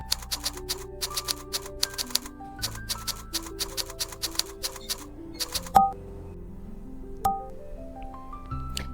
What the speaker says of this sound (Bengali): এভাবে টাইপ করে নেব